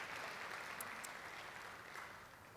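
Quiet, steady applause from an audience at a live-streamed corporate event, a brief even patter of clapping that stays faint and gradually tapers.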